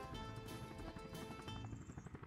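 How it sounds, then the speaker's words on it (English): Helicopters flying in the strategy game Workers and Resources, a steady rotor drone that holds through the whole short stretch at a moderate level, mixed with other game sounds. "Can hear the helicopters."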